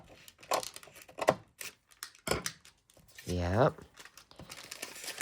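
Paper is cut for a junk journal, giving a few short crisp snips and crinkles spread between stretches of close speech.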